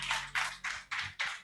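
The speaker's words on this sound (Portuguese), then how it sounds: "Palmas para o Senhor." Five evenly spaced bursts of hand clapping for the Lord during a church healing and deliverance service, moderately close and fairly quiet, with no voices over them.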